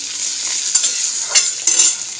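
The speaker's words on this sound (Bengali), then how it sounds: "পেঁয়াজ কলি ভাজা হচ্ছে, চাপিয়ে দিয়েছি ননস্টিকের তাওয়া" Onion stalks fry in a nonstick pan with a steady bright sizzle, broken by a few soft scrapes and stirs, close and fairly loud with no voices.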